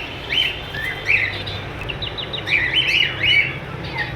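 Lovebird and cockatiel breeder pairs chirp in a caged setting, with bright, sharp tweets repeating in short irregular bursts over a constant low background hum.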